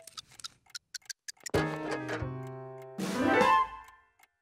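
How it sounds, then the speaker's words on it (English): Steady ticking of a clock, a run of crisp evenly spaced ticks, followed by a loud resonant ringing chime that rises, holds and decays. "Are you showing him my clock?"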